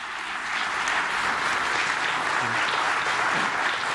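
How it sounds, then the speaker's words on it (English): A large conference audience at an IMF event on Advancing Asia, with Prime Minister Modi present, applauds in a dense, steady roar of clapping that fills the hall without pause. "Let's give a round of applause to celebrate this event."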